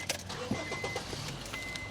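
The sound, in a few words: getting into and starting a car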